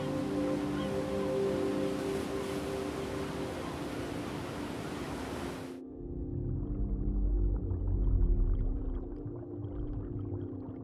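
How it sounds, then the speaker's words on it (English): Male humpback whale song, drawn-out moaning tones layered over a broad ocean hiss, loud at first before the background cuts away, leaving fainter low rumbling and distant calls. "Male humpbacks in each geographical area of the ocean have their own unique song."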